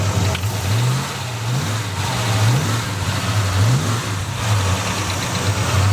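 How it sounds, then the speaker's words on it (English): A 1957 Chevy engine runs steadily close by, its low idle rising in several repeated revs that swell and fall back in a rhythmic pattern, with no talk over it. "let's go ahead and hear her start, man. all right. Rev her up."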